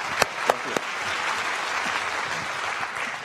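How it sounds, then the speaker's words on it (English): An audience at a Waseda University talk with Jack Ma breaks into sustained applause, opening with a few sharp, distinct claps before settling into an even, steady roar of many hands. "Can you give all of them another round of applause, please?"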